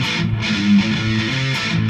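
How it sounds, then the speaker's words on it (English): Electric guitar played through a NUX MG-200 modeling processor set to a Fender Twin Reverb amp model, with sustained, steady chords ringing out alone at a fairly loud level. "So that's based on a Fender Twin Reverb."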